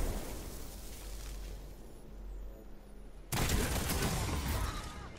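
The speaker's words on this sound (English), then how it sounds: "Alright, I haven't tried the grenade launcher yet." A grenade launcher fires in the online shooter Destiny 2 and a loud burst hits partway through, a sudden dense wall of noise over steady game ambience.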